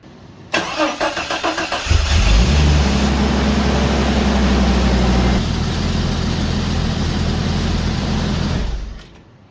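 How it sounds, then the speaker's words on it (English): A 1989 Jeep Cherokee XJ engine cranks briefly after an oil change, catches with a roar, then settles into a steady loud idle that runs until the end, with no voices. "we can now start the rig, let the oil fill the filter, and then recheck and check for leaks"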